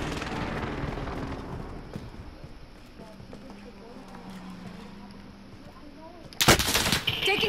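Gunfire in the video game Call of Duty: Modern Warfare, with a loud burst of shots near the end following quieter ambient game noise, while players talk over it.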